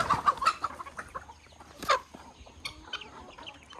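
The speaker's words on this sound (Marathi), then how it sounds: "गिने फॉल आहे." Guinea fowl and chickens clucking on a free-range poultry farm with an open half-acre area, several birds calling close by in quick bursts, with a louder squawk in the middle.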